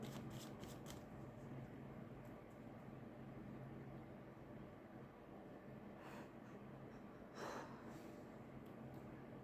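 Tarot cards being shuffled, soft faint riffling and flicking over a steady background hum, with a few brief louder card snaps near the end.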